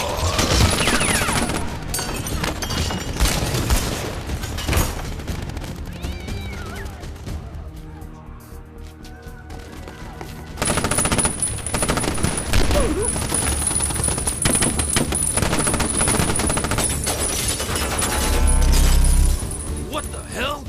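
A shootout with rapid bursts of gunfire crackling in dense clusters, mixed with voices and other scene sounds. The shooting drops away briefly midway, then resumes loudly.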